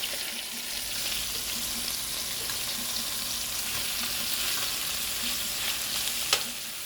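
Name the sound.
chicken frying and being stirred in a pan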